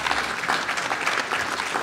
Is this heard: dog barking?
no